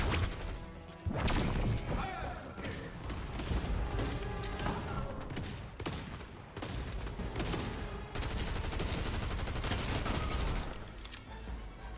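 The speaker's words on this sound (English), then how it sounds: "Wait, is that another person shooting him?" Dense, loud gunfire from a Fortnite match runs almost the whole time, a near-continuous barrage of sharp shots and impacts with no pause for breath.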